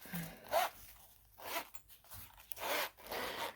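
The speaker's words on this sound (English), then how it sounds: "so let's unzip it." A zipper is drawn open on the soft, semi-rigid case of a TEKTON Everybit Tech Rescue Kit, making several close, raspy pulls with short pauses between them and no voices.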